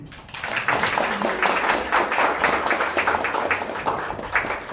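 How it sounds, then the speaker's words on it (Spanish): A closing round of applause from attendees at a citizens' meeting on electoral reform, steady, close-up hand clapping that builds quickly and holds throughout. "Pido un aplauso final."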